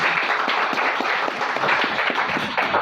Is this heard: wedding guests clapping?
yes